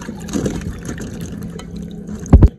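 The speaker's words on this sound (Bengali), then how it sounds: "জল দিয়ে আমগুলোকে খুব ভালো করে ধুয়ে নিব।" Water splashes and trickles as mangoes are rinsed in a bowl at close range, with a soft running pour that ends in a couple of louder sloshes.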